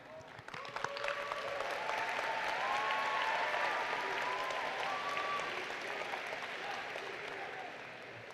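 Audience at a W.J. Mouat Secondary 2022 graduation ceremony breaking into sustained applause, swelling after the first second and holding steady, with faint cheers and whoops mixed in.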